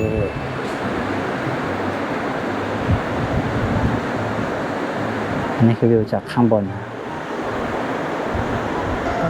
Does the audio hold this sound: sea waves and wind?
yes